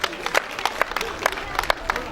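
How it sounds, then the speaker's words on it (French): A crowd applauds at the official launch of a women's association event in Côte d'Ivoire, with sharp clustered claps and crowd noise mixed beneath amplified speech. "Je demande d'applaudir très fort toutes ces personnalités."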